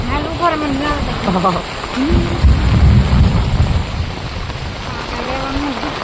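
Heavy rain pours steadily while thunder rumbles low and rolls loudly in the middle, with people talking over the downpour close by.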